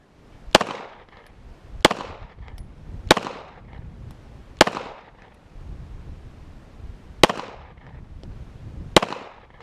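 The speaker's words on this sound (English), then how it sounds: "That was a ricochet off the edge of the plate, I believe." Canik TP9SFX 9mm pistol firing 115-grain rounds at steel plates outdoors: six sharp, loud shots spaced irregularly about one to three seconds apart, each with a ringing decay and a distant echo tail.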